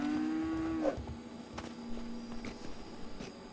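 A cow in the video game LEGO Jurassic World gives one drawn-out moo, followed by light clopping footsteps and small game effects.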